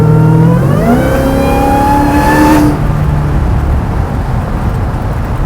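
A 900 hp Hellcat-powered 1970 Plymouth Superbird restomod accelerates hard, its loud engine climbing quickly in pitch before the throttle drops off around the midpoint, leaving a lower rumbling drone without speech.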